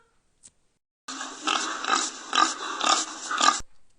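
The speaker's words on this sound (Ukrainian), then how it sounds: "Свиня." A domestic pig in a grandparents' farmyard grunts and oinks in a close, loud run of rhythmic snorting bursts lasting about two and a half seconds, with no talk over it.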